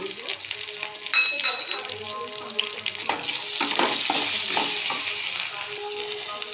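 Spices with chili powder sauté in a pan, giving a loud crackling sizzle broken by clattering stirs and scrapes, plus a brief watery splash partway through.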